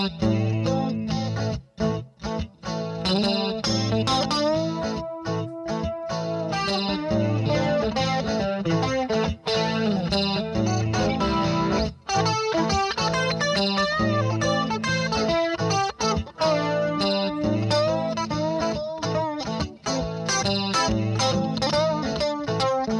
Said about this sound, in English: I just finished up this guitar that I made out of an automotive air cleaner.